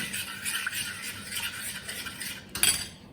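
A utensil stirs kadhi batter in a bowl, a continuous close scraping and clinking of metal against the bowl that pauses briefly near the end before one louder clatter.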